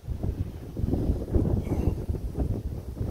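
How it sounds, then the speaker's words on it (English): Low, blustery rumble of wind buffeting a microphone at a lakeshore in spring, steady and close throughout with no voices. "Hopefully this wind noise isn't too bad."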